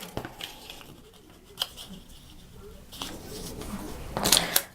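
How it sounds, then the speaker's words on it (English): Scissors snip through fabric for a Singer Futura sewing machine cover, a few short crisp cuts close by with a louder cluster of snips at the end. "so just cut it off just a little bit"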